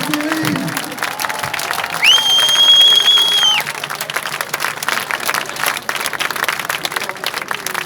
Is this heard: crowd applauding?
yes